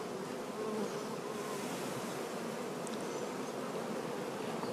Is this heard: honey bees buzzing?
yes